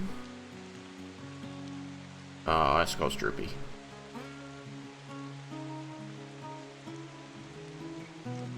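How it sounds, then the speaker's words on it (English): Steady, soft rain ambience plays beneath a tabletop roleplaying session, a constant hiss with a low musical drone, while a voice talks over it partway through. "ambiance in the background. Rain."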